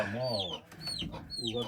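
Several chickens cluck and squawk close by in short overlapping calls, with a faint voice mixed in.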